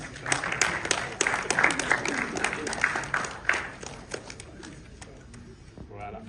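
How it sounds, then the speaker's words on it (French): Applause from the audience at a graduation ceremony for a training program, with steady clapping that thins out toward the end and some voices mixed in. "On l'applaudit très très très fort."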